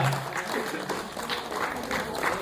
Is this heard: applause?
yes